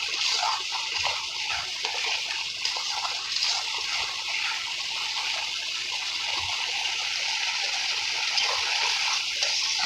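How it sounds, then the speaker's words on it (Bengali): Water poured into cooked masala in a pan for a Bengali fish curry, a continuous close trickling and splashing that runs steadily without pause. "আমি এবার এখানে পরিমাণ মতন জল দিয়ে দিলাম।"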